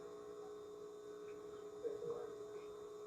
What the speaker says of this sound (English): Why is the light humming?